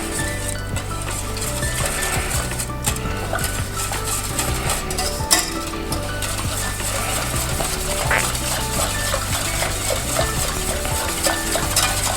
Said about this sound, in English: we just mix this until it thickens up a little bit